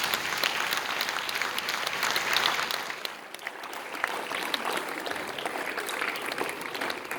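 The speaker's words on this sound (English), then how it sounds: "Ladies and gentlemen, a round of applause for Dr. Madhubhashini Ratnayake." An awards ceremony audience applauds a judge being introduced, a broad sustained wash of clapping from a large crowd that dips briefly midway and then swells again.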